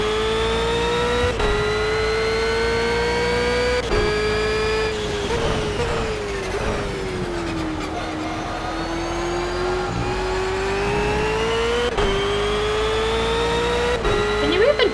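A race car engine in the racing video game Project Cars holds a loud, sustained roar for the whole stretch, its pitch rising and dipping with gear shifts, with a few sharp clicks along the way.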